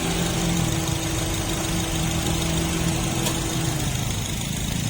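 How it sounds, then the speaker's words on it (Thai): A 2013 Mazda 1.5 Sport car engine idles with a steady, even hum and faint mechanical vibration, close and continuous with no revving. "เดินเครื่องปกตินะคะ ไม่มีน้ำมันไหลเยิ้มนะคะ"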